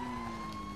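A fire engine siren wails steadily in the GTA V online video game, a sustained tonal cry at moderate distance with no talk over it.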